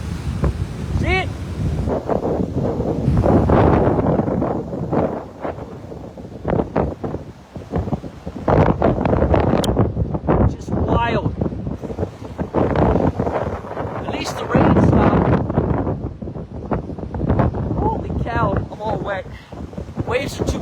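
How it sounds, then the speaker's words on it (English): Strong tropical storm gusts roar over churning water and surf on the Treasure Coast, with heavy wind buffeting the microphone continuously and loudly, rising and falling in bursts, while a person speaks intermittently over it. "Look at the wind blow the water."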